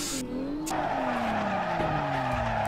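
Sustained tire squeal from a sliding Toyota GT86 with a 2JZ engine swap in the Assetto Corsa racing game, a loud continuous screech over a steady engine drone, with shifting pitch throughout.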